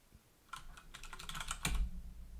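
Keystrokes tapped on a computer keyboard while writing code in a text editor, a burst of quick, fairly close clicks with no speech.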